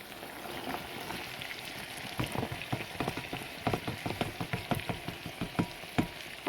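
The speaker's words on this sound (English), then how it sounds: "I'm going to try to add the onions while I'm holding the camera." Onions drop into a hot frying pan for Jamaican-style ackee and saltfish, and a rapid crackle of spitting, popping sizzle builds and keeps up close to the microphone.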